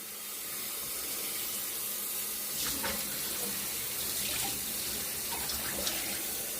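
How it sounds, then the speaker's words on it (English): Cold tap water runs steadily into a sink as split peas are rinsed, a continuous close hiss of flowing water with soft splashing and shifting as the peas are stirred under the stream. "I'll rinse those off real good. Cold water,"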